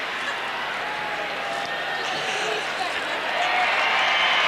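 Audience applause in an arena at the Lillehammer 1994 Olympic figure skating event, a steady wash of clapping and crowd noise that swells slightly toward the end, with a commentator talking over it.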